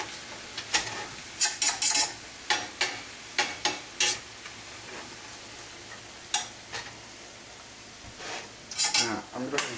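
Spinach tossed and sautéed in a pan, a low frying hiss beneath repeated metallic clatters and scrapes of a utensil against the pan, irregular and close, with pauses between flips.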